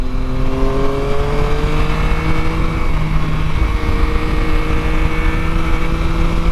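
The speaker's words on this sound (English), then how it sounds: "It goes really nicely, spins up quickly and sounds great, as triple engines do." A Yamaha Tracer 9 GT triple-cylinder motorcycle engine hums steadily and then climbs in pitch as it revs up, loud and close, with a smooth, even drone throughout.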